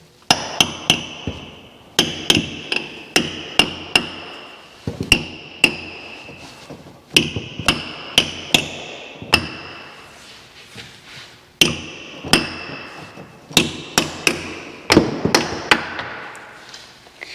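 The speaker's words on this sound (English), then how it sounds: "I wish I had a mallet, but I have a brass hammer, so that's basically the same." A brass hammer strikes metal on a blown 1955 Chevrolet Nomad in quick rhythmic bursts of three to five sharp, ringing blows, separated by short pauses, close and loud with no talking.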